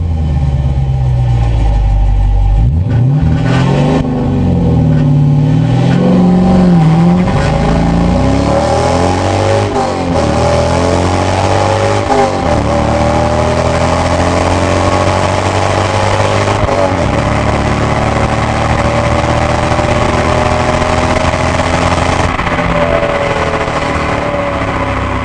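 A Dodge fitted with an Airaid cold-air intake accelerates hard on a test run, the engine revving up loudly through several gears with rising pitch sweeps and shift breaks, alone without talk.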